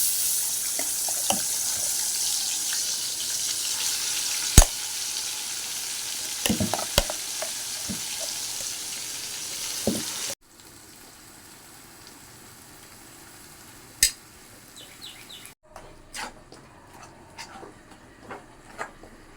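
Ground tomato and coriander paste sizzles loudly in hot oil for several seconds, with scattered clicks of a utensil stirring; the frying then drops to a quiet crackle.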